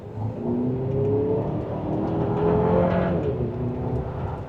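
A Chevrolet Traverse Z71 three-row SUV pulls hard in second gear in sport mode, its engine note rising steadily under acceleration as heard from inside the cabin, with no talking.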